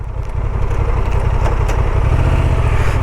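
A Honda Transalp 750 motorcycle powers uphill off-road in second gear, its engine loud and close with a steady, pulsing drone that gradually builds.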